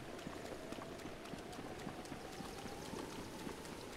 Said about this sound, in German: Und ihr merkt, es regnet jetzt schon.